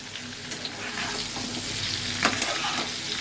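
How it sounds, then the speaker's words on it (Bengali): Ingredients for alur dom frying in hot oil over high heat, a continuous close crackling sizzle with a few stirring scrapes and pops, no talk. "এটাকে ভালো করে তেলে ভেজে নিতে হবে।"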